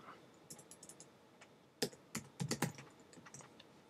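Close computer-keyboard typing while entering jQuery code for a WordPress plugin, sparse light key taps at first, then a few louder clustered keystrokes, quiet room, no voices.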